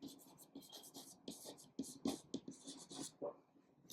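Marker or chalk scratching on a board in a Hindi-language biology lecture, with short scraping strokes coming in bursts between quiet gaps, close and moderately loud.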